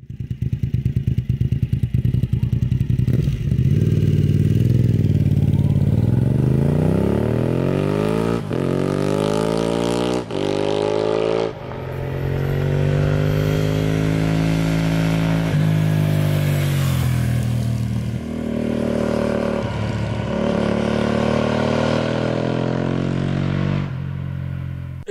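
Suzuki TL1000 V-twin motorcycle engine on stock silencers revving hard and loud, with repeated rising and falling sweeps of pitch through the whole stretch.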